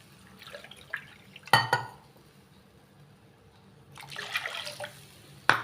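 Water and milk are poured into a cooking pot while making aval payasam, giving short splashing gushes with metallic clinks of the pot and utensils, set apart by quiet pauses.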